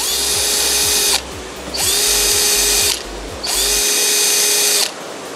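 A WORX cordless drill-type power tool whines at high speed in three bursts of about a second each, separated by brief pauses, loud and close with no talking.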